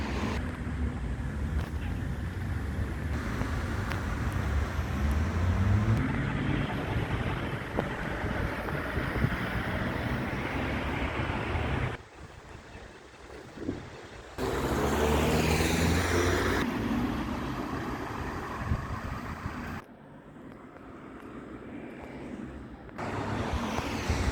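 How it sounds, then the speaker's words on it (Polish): Street traffic outside a shopping mall, with cars passing in waves of broad rushing noise and wind buffeting the microphone, briefly easing into quieter moments before rising again. "Teraz już znowu samochody, więc idziemy dalej."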